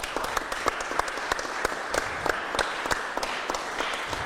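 A studio audience claps for chocolatiers after a filled-chocolates challenge, a brisk scattered round of applause with sharp individual claps, moderately distant and fairly quiet.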